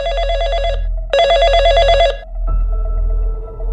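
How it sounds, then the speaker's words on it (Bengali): A house telephone rings loud and close in two long electronic trills, then a lower buzzing tone follows after a short pause. "আর প্রায় বিকেল ৫টার সময় বাড়ির ফোনটা বেজে উঠল"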